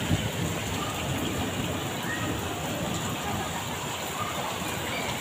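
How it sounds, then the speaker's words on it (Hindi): Steady, dense downpour of heavy rain, a continuous loud hiss of drops with no pauses throughout. "देखिए बहुत तेज पानी पड़ रहा है।"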